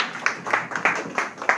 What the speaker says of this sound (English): please a round of applause for your presenters